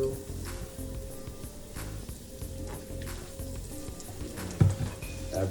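Carrots sizzling in hot olive oil in a pan for a tomato sauce, a steady crackling fry with a stir-like clatter near the end, while a person talks.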